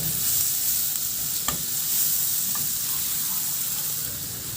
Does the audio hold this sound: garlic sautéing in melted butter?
yes